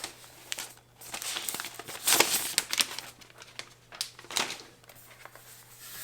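Protective plastic film peeled off a new M1 MacBook Air, a close crinkling, crackling rip that swells in bursts and then fades away.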